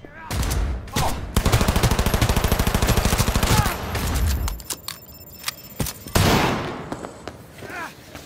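Rapid automatic gunfire in Cyberpunk 2077 during a heist shootout, a loud steady stream of shots for a few seconds, then scattered single cracks and a final heavy burst.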